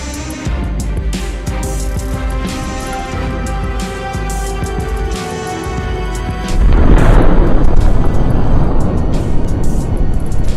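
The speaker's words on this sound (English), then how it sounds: "The gas station got too heated, exploding and blazing like fireworks." A continuous roar of fire and rumbling at a gas station, then a heavy boom around the middle as a large explosion bursts and keeps roaring loudly afterward.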